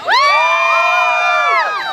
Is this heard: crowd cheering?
yes